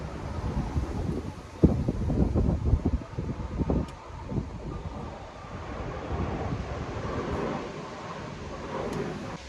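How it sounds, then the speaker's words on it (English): Wind gusts steadily outdoors at a vegetable plot where onions are being cleared, a broad rumbling roar across the whole clip with buffeting surges against the microphone. "I don't know if you can hear me over the wind"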